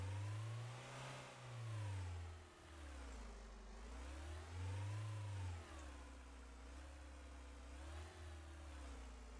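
A car engine in the car-dealing game Auto Sale Life revs repeatedly, pitch swelling and dropping in slow waves, steady and fairly faint with no talk.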